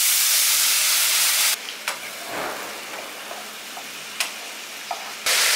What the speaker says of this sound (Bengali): জলটা দিয়ে একটুখানি মশলাটাকে কষিয়ে নিচ্ছি।